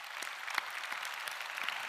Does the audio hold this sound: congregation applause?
yes